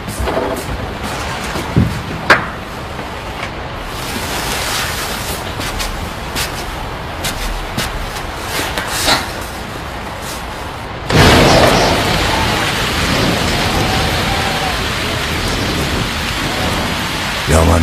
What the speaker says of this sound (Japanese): こんな大雨なのに